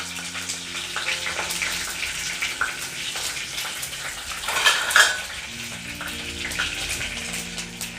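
Mustard seeds and two or three green chilies frying in hot oil for a small fish curry, a steady close sizzle with scattered crackles and faint clinks of a utensil against the pan, with a louder burst of spattering midway.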